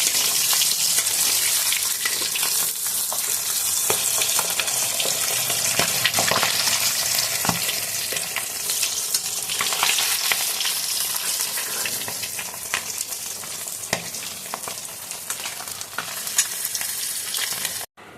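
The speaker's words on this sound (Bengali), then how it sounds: "এইভাবে সব কটা মাছ ভেজে নেব" Pieces of katla fish frying in hot oil, a steady, loud, dense sizzle that carries on for the whole stretch with no talking over it.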